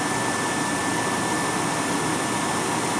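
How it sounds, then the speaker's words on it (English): A pair of 1985 Carrier 58GP natural gas heaters, 125,000 BTUH each, burn on their first run of the season, giving a steady, even broadband roar with no break across the whole stretch and no voices. "So we're burning some natural gas here, having some fun. Just kicked the heater on for the first time of the year."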